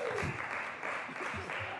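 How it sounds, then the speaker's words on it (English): Applause fills a senate chamber for a senator, a steady broadband clatter of clapping hands lasting about two seconds, fairly close and even in loudness, with faint low murmurs beneath. "Colleagues, please give Senator Wykowski a round of applause"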